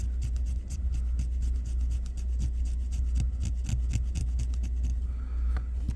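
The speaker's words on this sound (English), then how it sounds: "So what I'm going to have to do is I'm going to have to scrape that" Repeated rhythmic scraping on a guitar cover, a close steady series of rasping strokes over a low constant hum, continuing for several seconds.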